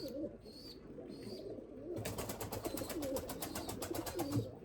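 Pigeons of a Limoni breeding stock coo softly near at hand, then a steady rapid flutter of wing beats joins in and carries on beneath the cooing.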